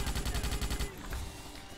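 Rapid burst of weapon fire launching grenades in the 2005 Starship Troopers shooter game, a quick rhythmic string of loud shots for under a second, then a fading tail.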